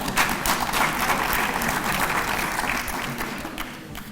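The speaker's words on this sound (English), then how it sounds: "Oh, another round of applause." An audience claps throughout a minister's speech on a water and sanitation master plan, steady and dense, tapering slightly toward the end.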